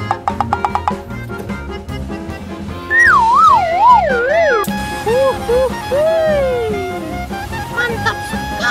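A cartoonish siren effect for a Siren Head TV character gives loud, wavering rising-and-falling wails over a busy musical backing, after a short run of quick plucked notes.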